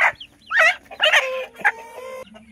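Clucks and agitated squawks from a native-cross mother hen held in the hand, several loud close calls in quick uneven bursts.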